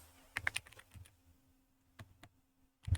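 Scattered keystrokes on a computer keyboard: a quick burst of clicks, a pause, a few more taps, then a final louder key press in a quiet room.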